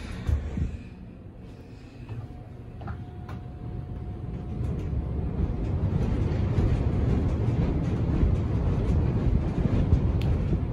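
A busy Westinghouse elevator with a Schindler PORT modernization at the Sheraton Times Square rumbles as it runs, a loud, swelling low roar of car travel with a few clicks and a tone early on.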